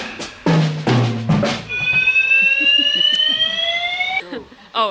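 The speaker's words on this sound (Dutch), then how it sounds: "Het brandalarm ging af vanwege" A fire alarm set off by smoke sounds a loud, sustained electronic tone of steady high beeping pitches for about two and a half seconds, after a few spoken syllables, then cuts off.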